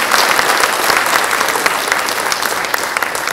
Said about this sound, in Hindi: आप लोग जोरदार तालियां बजा दीजिए